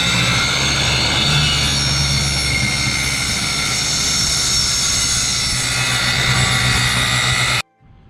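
A power tool cuts into a storage box during a boat remodel, giving a loud, steady droning whine with a strong low hum that runs without a break for about seven and a half seconds, then cuts off abruptly.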